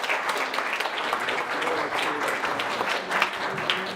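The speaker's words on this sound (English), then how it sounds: "Give them a big round of applause." Steady audience applause for flute and tin whistle musicians and sean-nós dancers at a health and wellbeing night launch, a full, even patter of many hands filling the room without speech.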